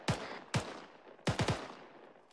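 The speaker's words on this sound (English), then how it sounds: "Make sure the 249s are put down the fire here." M249 machine gun fire in the military game ArmA 3: two single sharp shots, then a quick cluster of three, each crack followed by a short echoing tail.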